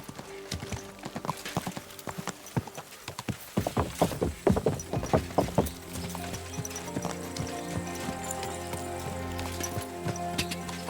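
Horse hooves clip-clopping in the medieval game Kingdom Come: Deliverance 2, an irregular run of sharp hoof strikes that grows louder and denser midway, then settles into a steadier trot under faint background sound.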